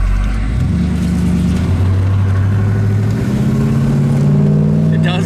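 A 1971 Oldsmobile Cutlass convertible with a V8 accelerating hard, its engine note rising through the revs and climbing into a higher gear midway, loud and close from inside the car, with some talk over it.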